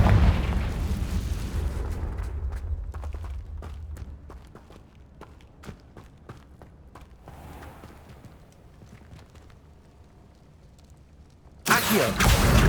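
A Confringo spell explosion in the Hogwarts Legacy game begins with a loud booming blast that fades into quiet scattered footsteps and clicks, then a second sharp burst erupts at the very end.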